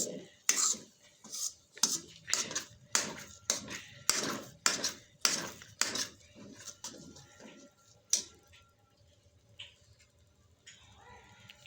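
A spoon scrapes and clatters against a pan as semolina and egg are stirred and roasted, giving about a dozen sharp, close strokes in a steady rhythm, then a quieter stretch with faint scraping.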